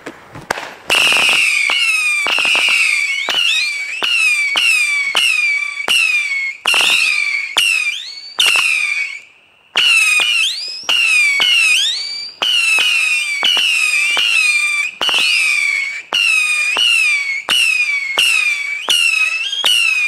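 A 300-shot firework battery fires a rapid string of whistling shots, each rising shriek followed by a crackle, continuing almost nonstop with one short pause.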